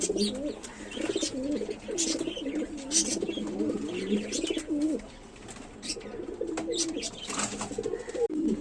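Sirazi running pigeons coo close by in low, rolling, repeated calls that overlap almost without pause, with occasional soft rustles and flutters.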